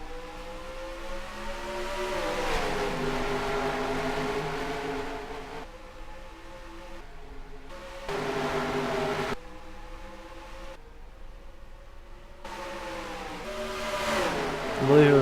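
Racing truck engines roar at the green flag on the Eldora dirt track, rising and falling in waves with sharp cuts between bursts of heavy, droning noise; faint commentary may sit underneath.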